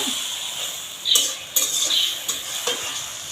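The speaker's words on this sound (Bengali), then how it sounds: "আমরা এগুলোকে একটু কষিয়ে নিচ্ছি" Vegetables for a prawn curry stirred and sautéed in a pan, with a sizzling hiss under several close metallic scrapes and clinks of a spoon against the pan, heard without talk.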